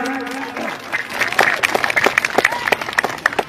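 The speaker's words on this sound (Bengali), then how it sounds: "আপনার হাততালি দিবেন এদের কমিটির নামে নতুন কমিটির নামে" After a voice at the start, the audience at a Kurmi community block conference in Salboni breaks into scattered, uneven clapping that stays fairly sparse and close.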